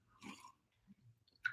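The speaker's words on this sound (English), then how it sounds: "chew ice while you're trying to talk to people" Ice being chewed, a short crunch followed by a few softer bites, close and quiet with no talking.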